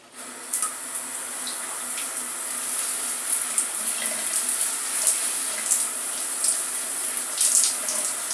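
Tap water running steadily on the other side of a head of hair being conditioned, a continuous hissing stream with small splashes, close and fairly loud, with no talking.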